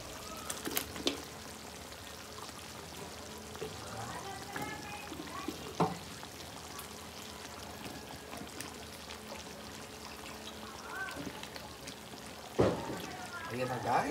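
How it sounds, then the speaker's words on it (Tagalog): Papaya goes into coconut milk boiling in a pot, bringing splashes and stirring clatter over a steady simmering bubble, with a few sharp utensil knocks against the pot. "kapag kumukulong-kulo na yung gata, pwede na natin ilagay ang ating papaya para lumambot yung ating papaya"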